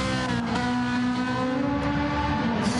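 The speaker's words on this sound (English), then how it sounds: "Screaming Ferrari" A Ferrari race car engine screams at high revs in a sim-racing test race, holding a loud, steady harmonic whine throughout and shifting slightly in pitch as it holds speed, with no talk over it.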